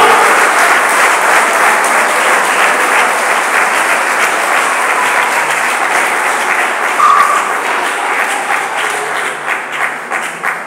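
A church congregation claps enthusiastically to acclaim the gospel, a loud sustained applause that thins slightly toward the end, with brief voices faintly mixed in.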